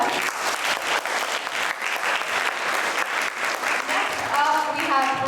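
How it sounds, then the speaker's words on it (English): A youth camp audience gives sustained, dense applause throughout, with a voice emerging over the clapping near the end. "Can we give him another round of applause?"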